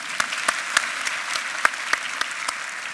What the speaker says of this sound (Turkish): Alkışlayabilirsin serbest.